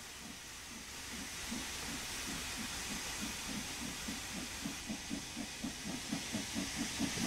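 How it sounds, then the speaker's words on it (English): Steady loud hiss of a steam locomotive safety valve blowing off in Train Sim World 3, with a rhythmic chuffing pulse building underneath and a single brief spoken word. "Kicking it low because the safety valve's going off."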